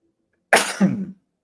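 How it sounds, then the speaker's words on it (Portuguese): A single abrupt sneeze bursts out of silence, a sharp hissing onset followed by a short voiced tail, then quiet. "Momento do espirro."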